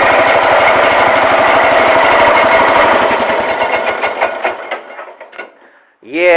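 A small tractor engine idles with a smooth, regular chugging pulse close by, then winds down and fades to near silence before a voice briefly speaks at the end.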